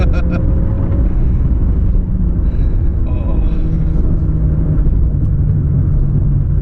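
Inside a 2019 Mazda 6 with the SkyActiv-G 2.0 engine and an automatic gearbox without paddle shifters, the transmission downshifts beneath a steady, loud, low cabin rumble of engine and road noise.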